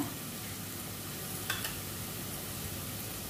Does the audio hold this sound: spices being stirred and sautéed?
yes